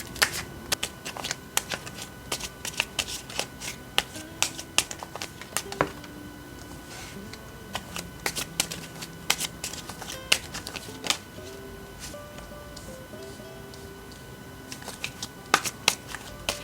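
Tarot cards are shuffled and riffled close by in quick, crisp bursts of snapping and flicking, broken by short pauses and soft slides of card on card.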